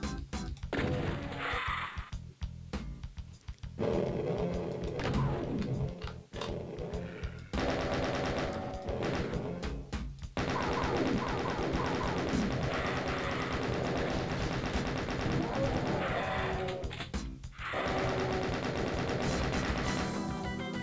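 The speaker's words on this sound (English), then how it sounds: "Ah, double-barreled shotgun." Double-barreled shotgun blasts in the PC game Doom 2 played through the Zandronum source port, loud booming shots repeating at intervals amid dense, continuous game noise and music with no talking.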